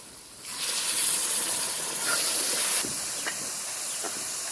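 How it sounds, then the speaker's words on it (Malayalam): Water squeezed from 100 grams of tamarind hits a hot pan of spiced powder for an okra curry, bursting into a loud, sustained steamy hiss that settles into a steady sizzle with faint bubbling. "100 ഗ്രാം കോൽപ്പുളി പിഴിഞ്ഞ വെള്ളം ഒഴിച്ചു കൊടുക്കാം."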